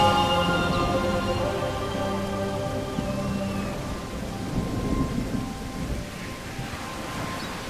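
Rain and thunder in the video game Genie (Remake): a loud, continuous downpour with a long rolling rumble of thunder underneath, alongside a sustained tonal game music note early on, with no speech.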